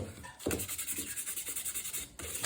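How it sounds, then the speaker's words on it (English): A sander rubbing across Victorian walnut table wood in short, rhythmic back-and-forth strokes, close and steady, with a brief pause before it resumes. "I do it very carefully by hand, well, with the sander"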